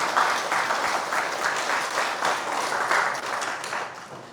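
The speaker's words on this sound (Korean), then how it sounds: "다시 한번 큰 박수 부탁드립니다" An audience at a creditors' association event gives a big round of applause, dense clapping from many hands with a gently pulsing rhythm, steady and fairly loud from start to finish.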